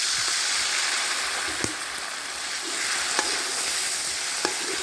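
Spicy fried tilapia curry paste is stir-fried with sugar and a splash of water, giving a loud, steady close-up sizzle broken by a few sharp utensil taps against the pan.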